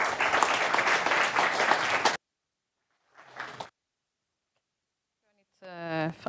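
Brief burst of audience applause at a data and AI meetup welcoming a speaker from the Geospatial Commission, cutting off abruptly after two seconds, followed by quiet, a small shuffle and then a voice talking.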